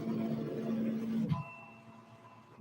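An embroidery machine runs with a steady motorized hum and whir as it traces a design, then shifts to a quieter tone after a brief clunk, with a small knock at the end.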